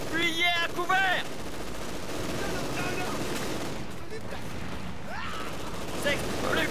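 Company of Heroes 2 battle with bursts of machine gun fire and heavy mortar explosions rumbling through a dense, noisy soundscape, while voices call out in the background.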